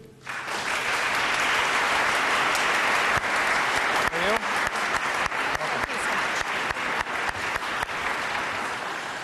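Large audience at a congressional event welcoming Congresswoman Judy Chu with loud, steady applause that holds strongly, then thins into scattered individual claps toward the end.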